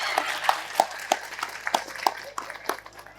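Scattered, uneven hand claps from a small audience at an Islamic religious gathering, moderately close, with irregular single claps and a low murmur underneath.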